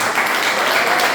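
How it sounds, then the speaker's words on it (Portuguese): Church congregation applauding together, a dense steady wash of clapping filling the room for the whole moment, with no one speaking over it. "Uma vez eu chamo palmas para o Senhor."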